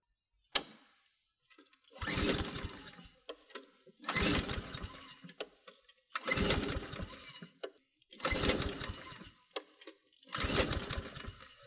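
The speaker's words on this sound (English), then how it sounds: "let's take it outside and start it up and see how much smoke blows out of the muffler" A lawn mower engine, just tilted on its side, is cranked repeatedly: a sharp click, then five separate bursts of loud sputtering effort at a steady two-second rhythm, each cutting off before it catches, with near silence in between.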